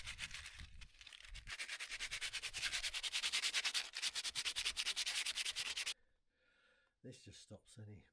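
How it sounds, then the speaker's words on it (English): A bicycle part is polished by hand with a cloth, giving brisk, rhythmic close rubbing strokes that run steadily for several seconds, then stop before a few short handling noises. "Now this, you need to polish."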